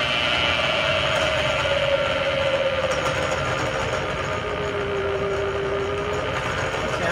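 A drill press fitted with a large Forstner bit and slowed to about 500 RPM gives a steady, moderately loud motor hum with a faint tonal whine throughout.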